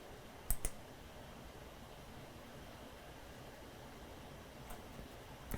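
A computer mouse clicks once on a Start Streaming button in Google Meet, a quick faint double click over a quiet hiss, with a few softer clicks later on.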